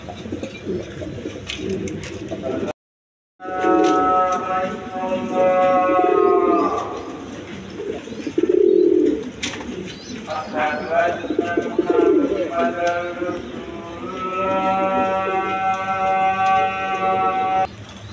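A pair of American fantail pigeons, male and female, at a pigeon sale, give repeated low throaty coos, close and fairly loud, in several separate bouts.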